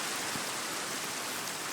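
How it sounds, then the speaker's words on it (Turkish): Steady broadband hiss of rain falling in the video game Minecraft, a soft even wash with no voices over it. "Abi yağmur yağdı ya öf"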